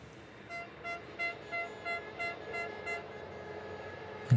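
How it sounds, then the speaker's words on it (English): Air horns sounding at the Slovakia Ring race track, a faint, distant string of about eight evenly spaced toots that repeat steadily and then stop. "you can hear the air horns still going off in the background"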